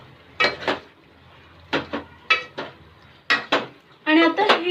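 Onion and coconut masala paste is stirred into a chicken mixture in a pot, with a spoon scraping and clinking against the metal in several short bursts. Quiet pauses fall between the strokes.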